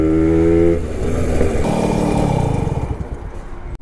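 A Suzuki Max 100 motorcycle revs hard with a loud, buzzing engine note that holds, drops, then climbs and rattles before cutting off abruptly near the end.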